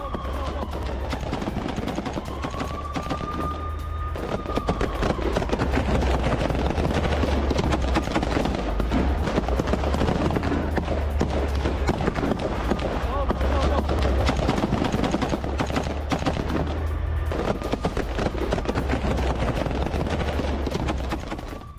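Heavy gunfire from a clash with Hamas fighters near Jabalia camp in Gaza rattles in dense, continuous bursts, loud and sustained, with a voice talking over it.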